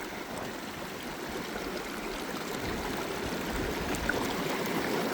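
Water flows steadily through a Super Mini gold sluice box, a close, continuous burbling rush that swells slightly louder toward the end, with no voices.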